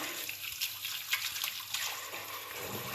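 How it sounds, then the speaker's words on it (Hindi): Fresh turmeric roots, still coated in soil, are dipped into water, giving a soft, close trickling and splashing that runs steadily, quiet and without talk. "मैं इसको सारी को पानी के अंदर डिप कर दूँगी।"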